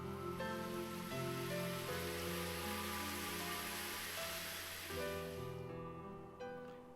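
Steady rain falling in the video game Ame no Marginal, a dense, continuous wash of rainfall that stays even throughout, with a soft sustained musical drone underneath and no voices.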